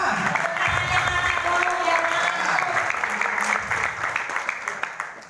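Applause from a crowd, steady clapping throughout with a murmur of voices mixed in.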